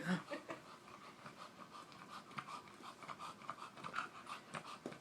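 A dog named Rocky breathes heavily and pants in a steady, rhythmic run of quick breaths, close and continuous across the whole stretch.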